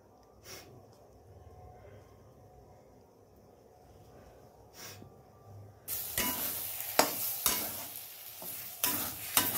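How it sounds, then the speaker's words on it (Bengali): Green peas stirred in a pan with green chili and ginger, a quiet stretch of faint scraping that gives way after about six seconds to loud, steady sizzling cut by sharp spatula strokes. "দেখি যাতে জলটা মরে সেইভাবে আমরা কড়াইশুঁটিটা নেড়ে নেড়ে ঠিক করবেন"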